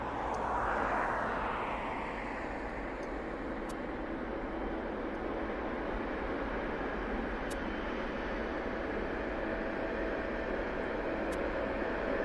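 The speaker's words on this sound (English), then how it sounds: "With that Tui Dreamliner in the background." A TUI Boeing Dreamliner at East Midlands Airport gives off a steady, loud broadband jet roar that holds without a break across the whole stretch, with no voices over it.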